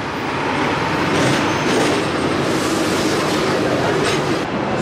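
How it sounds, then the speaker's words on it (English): Inside a moving double-decker tram in Hong Kong, a continuous rumbling roar of wheels on rails with rhythmic clatter and faint squeals, steady and close throughout, with no talking. "it's like a double-decker tram as well"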